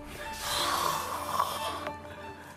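A single drawn-out snoring breath, a raspy rumbling inhale that fades off, heard fairly close and quiet.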